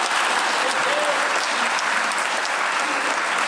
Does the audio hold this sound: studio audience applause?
yes